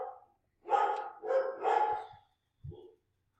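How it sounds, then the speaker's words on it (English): Dogs bark indoors in a few quick, fairly faint bursts: a short yap, then two fuller barks close together, and one last brief woof after a pause. "Sorry, my dogs are barking."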